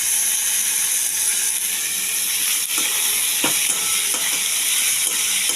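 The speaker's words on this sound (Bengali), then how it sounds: "এটাকে পুরো বাঁধাকপির মতো শুধু একটুখানি পেঁয়াজ দিয়ে আমি ভাজা ভাজা করছি" Squash frying with onion and green chilli in a pan, a loud, steady close sizzle with a bright hiss, punctuated by a few scraping, clicking stirs partway through; no talking.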